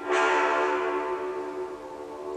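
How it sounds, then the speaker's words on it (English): A sampled French horn blares a single big growling note with heavy reverb, bright and brassy at the start and slowly fading as it sustains alone. "a big growling French horn sounds great"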